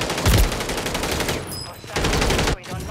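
Rapid automatic gunfire from Call of Duty MW3 on Rebirth Island, dense bursts of loud shots fired close by, with a brief pause before another burst.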